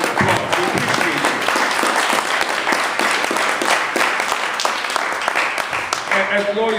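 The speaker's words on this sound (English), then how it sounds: "So just give yourselves again a round of applause." Loud, sustained audience applause at a People's Power Assembly rally in San Diego, a dense wash of many hands clapping that fills the whole stretch, with some voices mixed in.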